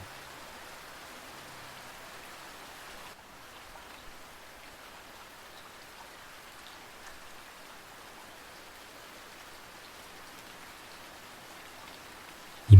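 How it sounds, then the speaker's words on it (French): Steady rain falls on city sidewalks at night in an even, hissing patter, constant throughout, with a brief louder knock at the very end. "Imaginez à présent la pluie qui tombe sur les trottoirs d'une grande ville, la nuit."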